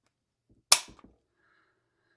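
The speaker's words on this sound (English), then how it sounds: "Let's get some trigger pulls" A TISAS BR9 9mm pistol gives a single sharp, close dry-fire trigger click followed by a couple of faint mechanical clicks, then near silence.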